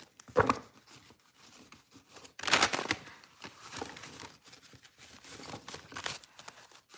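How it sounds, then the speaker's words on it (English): Tarot cards are riffled and shuffled by hand in short papery bursts, a louder flurry near the start and another in the middle, with softer rustling between. "one more shuffle"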